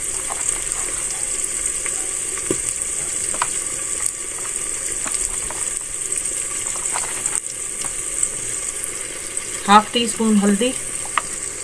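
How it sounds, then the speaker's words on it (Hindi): Salt, red chili and turmeric fry in a pan for a dal dish, a continuous bright sizzle with occasional stirring clinks and a brief scraping burst near the end, while a voice speaks over it. "अब इन मसालों को थोड़ी देर भून लेंगे।"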